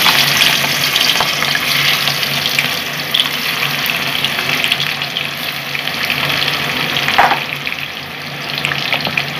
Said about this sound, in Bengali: আমি এখন মাছগুলোকে আস্তে আস্তে ভেজে নিচ্ছি।